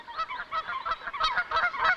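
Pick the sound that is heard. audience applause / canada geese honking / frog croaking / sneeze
canada geese honking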